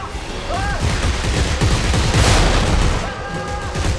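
Dense gunfire in Dead Space 3: rapid bursts and booming shots pile into a loud, continuous barrage, with in-game sounds mixed in.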